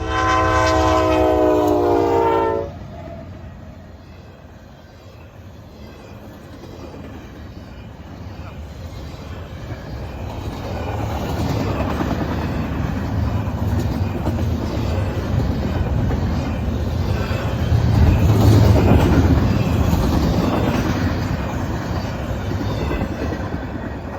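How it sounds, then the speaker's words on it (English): A westbound Norfolk Southern intermodal freight train passes in Kendallville, Indiana, opening with a loud horn blast, then a steady rumble and clatter of wagons that swells louder as it goes by and stays close. "It's an intermodal train."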